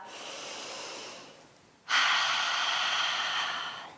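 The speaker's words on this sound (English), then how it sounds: "So just take a few breaths here," Deep breathing during a Pilates core workout: a long, steady inhale fades out, then a forceful, close-up exhale rushes through the nose and mouth, with no talking.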